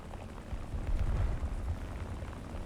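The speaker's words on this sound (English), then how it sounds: "Oh, he's dropped both bombs." Bombs striking a target in the War Thunder flight game, giving a low, rumbling blast that swells near the middle and then tails off into a steady low roar, with no speech.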